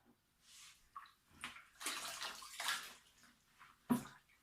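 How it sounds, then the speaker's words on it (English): Dirty water from washing wool dumped into a bucket in several pours, splashing and sloshing in bursts with a final sharp splash, close and fairly quiet. "dump it into this bucket, and then throw away the remaining water"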